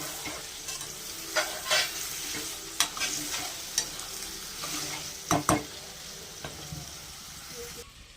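Eggplant, egg and tomato curry sizzles in a pan as a spoon stirs it, giving scraping strokes and soft clinks over a constant close frying hiss, with no talking.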